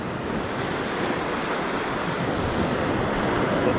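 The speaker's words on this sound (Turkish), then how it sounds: "Çok tatlı bir dalga var." Gentle sea waves wash steadily onto the shore on a calm early morning at a sea bass fishing spot, a continuous soft broadband surf with light wind noise on the microphone and no voices.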